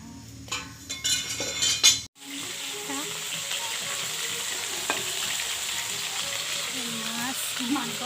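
Shrimp and vegetables frying in a pan at an outdoor party, a steady close sizzle with occasional clinks of utensils and stirring, after a brief burst of louder clattering at the start.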